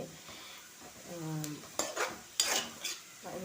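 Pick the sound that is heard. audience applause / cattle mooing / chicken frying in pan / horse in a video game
chicken frying in pan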